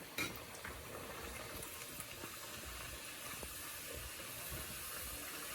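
Banana puri dough sizzling and bubbling in hot oil in a shallow home pan, a steady close frying hiss with scattered pops and crackles running throughout.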